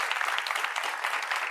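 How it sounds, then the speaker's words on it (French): Audience applause breaks out in a French-language studio debate show, a steady, close wash of clapping from a crowd throughout the short moment. "Est-ce qu'on peut l'applaudir?"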